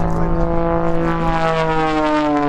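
Extra 300 aerobatic airplane engine at an airshow, a steady loud propeller drone with strong harmonic tones held throughout, close and alone without talk.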